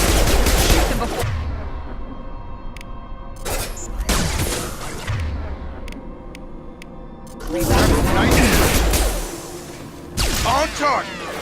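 Gunfire in the video game Mass Effect 2, loud close bursts of rapid shots and booms that come in waves between quieter gaps, with in-game voices calling out over the fighting.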